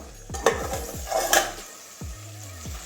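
A lid comes off a pot of cooking data greens with a metallic clink, amid scraping utensil strokes and a soft sizzle underneath, close and without voices.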